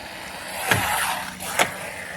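A small Arrma Typhon Grom RC buggy makes a steady high electric whine, with two sharp bursts of motor and impact noise as it launches over small jumps, close by and with no talk.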